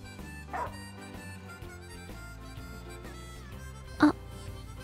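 Dog in the Final Fantasy XV video game, a brief yip near the start and a sharper bark later, both standing out over the steady game music.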